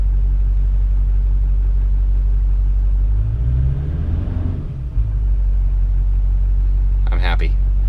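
A Duramax diesel with a replaced exhaust stack idles with a loud, constant low rumble, swelling briefly in a short rev midway before settling back, while someone speaks over it.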